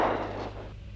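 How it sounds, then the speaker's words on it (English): A light aircraft engine runs up before takeoff on a solo navigation flight from Charleroi, a loud steady drone with a constant low hum and broad roar that eases slightly over the second, with no talk. "Okay, engine run up."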